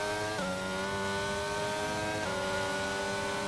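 A race car engine in a Silverstone racing game drones steadily at high revs, its pitch dropping sharply twice as the car shifts gears, loud and continuous.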